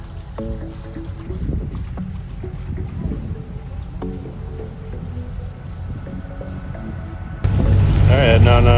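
A boat off Bonaire sets out on the water, with a steady low engine and wind rumble under tonal hums and a few voices, then a sudden louder, fuller roar as it gets underway.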